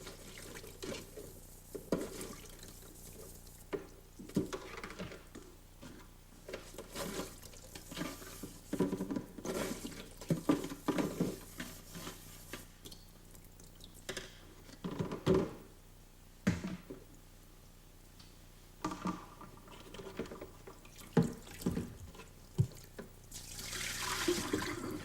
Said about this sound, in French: vous devez rincer à l'eau chaude du robinet pour vous assurer qu'aucune trace de détergent ne subsiste